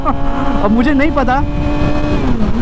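A 2019 Suzuki Hayabusa and a 2019 Yamaha R6 rev on a residential street in the evening, their engine tones rising and wavering close by while someone talks loudly over them.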